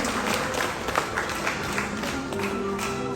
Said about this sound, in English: Let's give a great applause to all of the outstanding contestants.